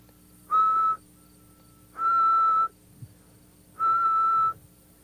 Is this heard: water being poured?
no